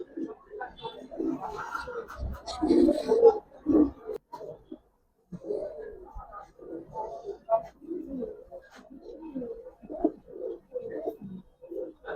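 Giribaz pigeons, a pair shown at a pigeon sale, give soft low coos in repeated bursts, mixed with people talking nearby.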